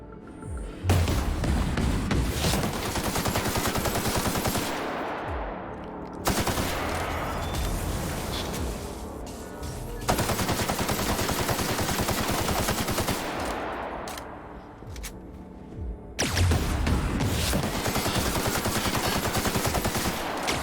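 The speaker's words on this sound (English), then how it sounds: "Shooting his weapon seems to be working okay." Sustained automatic gunfire from the video game The Outer Worlds, coming in long loud bursts of rapid shots separated by brief gaps, with booming echoes trailing off between volleys.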